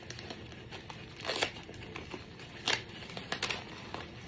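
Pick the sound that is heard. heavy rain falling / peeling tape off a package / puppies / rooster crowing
peeling tape off a package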